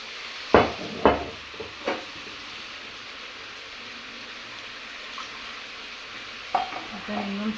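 Chilli and a ginger-garlic-coriander paste stirred in hot oil for a chicken gravy, giving a few sharp scraping stirs early on and again near the end over a faint steady sizzle.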